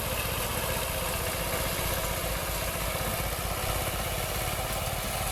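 A walk-behind tractor with a mower attachment runs steadily nearby, its engine chugging loudly and continuously throughout with no voices.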